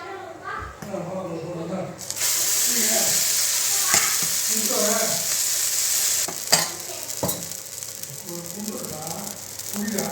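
Egg and urad dal dosa batter sizzles on a hot, lightly oiled pan, a steady broadband frying hiss that begins abruptly and holds, with a voice talking intermittently over it.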